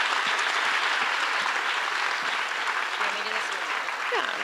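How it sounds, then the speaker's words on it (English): Sustained audience applause at a youth ballet competition awards ceremony in Salt Lake City, a dense, loud wash of clapping from a large crowd with some voices beneath it. "So give yourself a round of applause."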